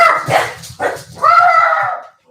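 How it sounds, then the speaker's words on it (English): A dog lets out a few close, sharp barks followed by a longer whining yelp. "What are they barking at?"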